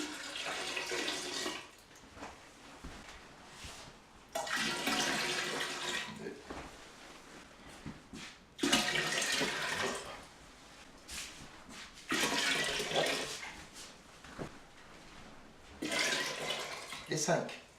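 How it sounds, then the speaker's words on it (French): Water for kombucha, five liters in total, pours in several separate bursts, each running a couple of seconds with short pauses between them. The splashing is moderately loud and steady, and a voice speaks in the gaps. "Prochaine étape, rajouter 5 litres d'eau."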